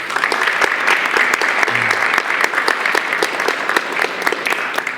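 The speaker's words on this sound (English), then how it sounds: "Please give yourselves a big round of applause." An audience at a motivational seminar in Port Shepstone claps steadily for about five seconds, a dense, even wash of many hands with a few sharper individual claps standing out near the front.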